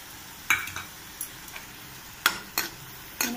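A spoon stirs chopped tomatoes with potatoes and onions in a pan, giving a few sharp scraping knocks spaced apart over a faint sizzle, close and fairly quiet.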